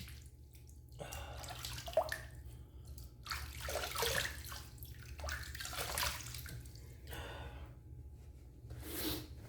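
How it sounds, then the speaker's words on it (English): Extremely hot water runs from a tap for wet shaving, a steady moderate splash with a few brief surges and drips, close by and without talk. "We have some nice, extremely hot water here."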